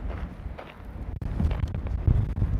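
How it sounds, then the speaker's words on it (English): Wind buffets the microphone outdoors on a trail, a low rumbling gusty roar rising and falling in surges, with faint movement sounds and no clear talk. "And it's windy"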